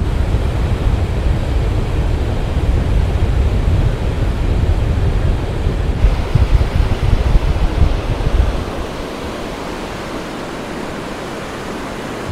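Continuous broadband wash of gentle surf on Tajpur beach, West Bengal, at sunset, steady and fairly loud, with wind rumbling beneath; the low roar eases off near the end.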